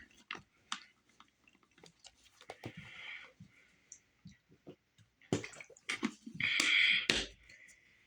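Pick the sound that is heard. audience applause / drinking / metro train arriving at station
drinking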